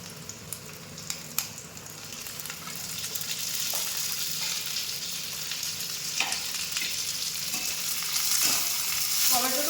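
Beans go into a pan of spice paste already fried to a deep red for a tomato and bean curry, setting off a strong sizzle that builds and keeps frying, with occasional stirring scrapes and clinks.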